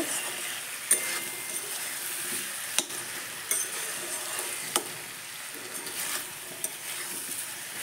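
Ground black pepper and cumin powder stirred into a sizzling pan of potato and pointed gourd curry, a steady fry hiss broken by a few sharp spoon scrapes and clinks against the pan, with no voices.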